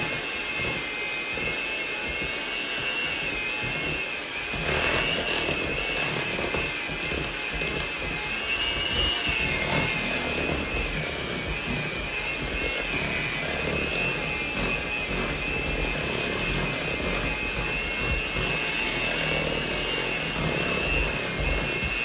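An electric mixer beats peanut butter brownie batter with brown and white sugar in a home kitchen, a continuous loud whirring hum with a steady motor tone throughout, no talking.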